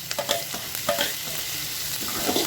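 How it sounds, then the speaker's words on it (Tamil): Two green chilies sauté in a hot pan for onion chutney, a steady oily sizzle under repeated scraping stirs, close and fairly loud, with no voices. "இதையும் நல்லா போட்டு வதக்கிக்கலாம்."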